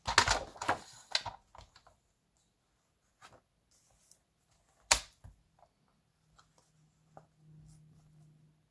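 Scissors snip a piece of paper for a recipe scrapbook album, a few quick close crisp cuts early on, then sparse faint rustles and taps in a quiet room.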